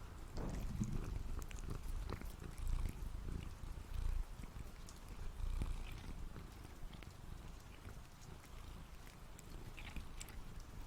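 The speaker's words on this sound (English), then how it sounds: "They are beautiful kitty kitties." Cats purr softly and close by, a low, steady rumbling that pulses gently for several seconds under faint background noise.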